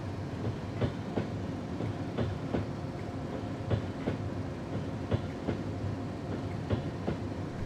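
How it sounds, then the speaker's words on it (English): Rhythmic clickety-clack of a BR Class 31 diesel train rolling along the rails in a Train Simulator run with faulty brakes, steady wheel beats over a continuous low rumble, no talk. "There's something wrong with the brakes on this train."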